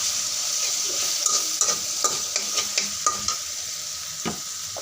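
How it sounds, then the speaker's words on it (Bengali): Cumin seeds frying in oil in a pan for a flat bean bhaji, producing a close, continuous crackling sizzle with a regular series of spoon scrapes and light clinks as they are stirred, and no talking. "আমি এটা কিছুক্ষণ ভেজে নিব।"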